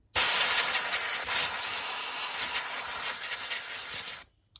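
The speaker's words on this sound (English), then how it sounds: "I like to get a bit of compressed air after using a bit of brake cleaner, just to get rid of any brake fluid" Compressed air blasting off brake cleaner on a BMW R1200GS motorcycle final drive, one loud steady hiss lasting about four seconds, starting and stopping abruptly.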